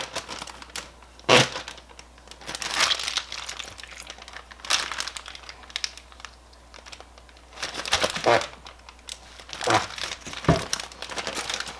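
A plastic zip bag holding marinating hot dogs crinkles in bursts as it is rolled and pressed to push out the air, loud close crackles separated by quieter pauses.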